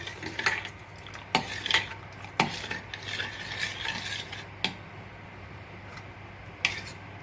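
A spoon stirs essence into a milk pudding mixture for a China grass dessert, with clinks against the bowl and soft swirling scrapes repeating irregularly, close and moderately quiet, with no talking.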